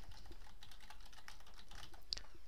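Password typed on a computer keyboard to log in: a steady run of quiet, quick key clicks with one slightly sharper tap near the end, no talking.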